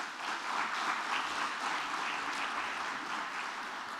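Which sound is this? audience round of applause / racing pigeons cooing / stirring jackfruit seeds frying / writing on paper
audience round of applause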